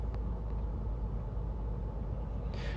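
A car engine hums low and steady inside the cabin as the clutch is eased to the biting point, the note shifting only subtly, with a faint brief hiss near the end.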